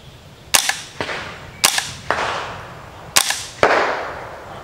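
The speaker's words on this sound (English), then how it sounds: "Basically, all you hear is the bolt cycling in the gun." A suppressed rifle fires subsonic CCI rounds, with four sharp close cracks spaced about a second apart, each trailed by the mechanical clack of the bolt cycling.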